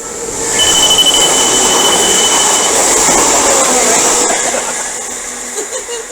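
A loud train roars steadily past, its wheels squealing at a high pitch before the rumble fades slightly toward the end.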